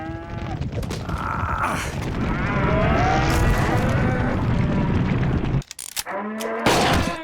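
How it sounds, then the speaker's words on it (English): Cartoon cows moo loudly in a long, drawn-out lowing over a busy animated soundtrack with booming effects, then a sharp break near the end before the mooing resumes. "It's a couple of cows."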